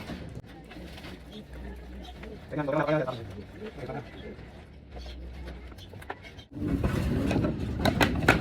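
Soft coos from kept breeding pigeons at feeding time come in a short burst amid outdoor background noise, with someone talking nearby and a louder rustle near the end.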